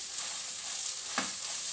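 Onions frying on a medium flame, a soft continuous sizzle with one brief scrape partway through.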